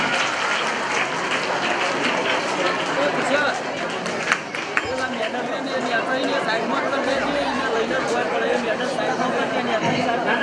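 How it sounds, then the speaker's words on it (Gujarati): Audience applause welcomes guests at a primary school Republic Day event, a dense steady clapping crowd filling the whole stretch with murmuring chatter and voices underneath. "આપણે તાળીઓથી મહેમાનનું સ્વાગત કરીએ છીએ"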